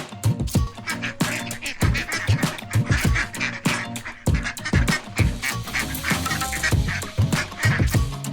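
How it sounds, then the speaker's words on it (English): Rapid, raspy duck quacks repeat steadily throughout, fairly close and loud, with some scratchy background noise between calls. "This is Duck."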